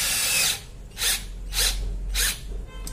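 A 12V cordless drill drives a screw in four short bursts of whirring, each about a third of a second long with brief quiet gaps between, close and fairly loud with no talking.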